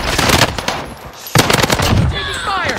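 Gunfire in a battle royale video game: loud, close bursts of rapid automatic fire rattle in dense volleys, broken by a short lull, then resume with another heavy burst as whistling tones sweep through the end.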